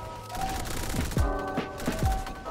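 Rapid gunfire in the Roblox shooter Energy Assault: a quick burst of several loud, close shots in uneven succession, with ringing metallic tails between them and no talking.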